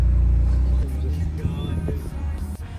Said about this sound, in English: Beautiful car, man.